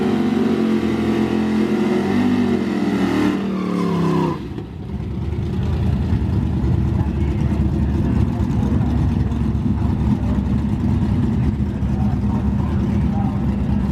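Drag racing cars launch hard down the strip at a bracket race, a loud engine roar rising before cutting to a rumbling, rattling drone as the cars pull away.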